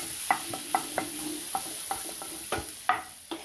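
Three cloves of grated garlic sizzle in a pan as the base of a white sauce, with a soft frying hiss broken by several sharp stirring scrapes and taps of a utensil.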